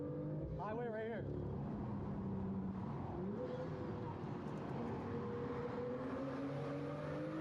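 Cars on a highway, heard as a continuous rumble with engines rising as vehicles pass close by, while people talk over the traffic noise throughout.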